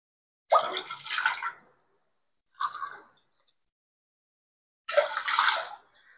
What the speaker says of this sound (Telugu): ఇది ఆల్రెడీ ఉడకపెట్టుకొని చల్లారిన మిల్క్. సో ఈ మిల్క్ కూడా యాడ్ చేస్తాను.